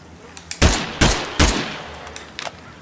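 Three loud, close gunshots in quick succession in the State of Decay 2 video game, each a sharp bang with a short decaying tail, followed by softer clicks and rattles.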